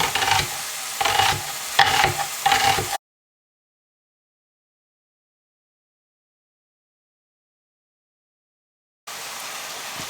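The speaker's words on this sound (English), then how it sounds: "we can easily saute up lots of different veggies" Assorted vegetables sautéing in a pan give a close, hissing sizzle with brief stirring scrapes for about three seconds. Then there is a long stretch of silence before the sizzle returns faintly at the end.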